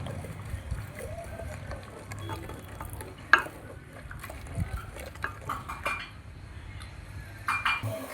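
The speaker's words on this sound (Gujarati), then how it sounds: "હવે આપણે પાણીમાં નાખેલો ગોળ ઓગાળી નાખવાનો." Jaggery is stirred into water in a cooking pot to dissolve it, with close, irregular scraping and light metallic clinks of a spoon against the pan over a quiet background.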